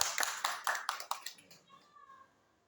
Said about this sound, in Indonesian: Beri tepuk tangan buat Pak Reza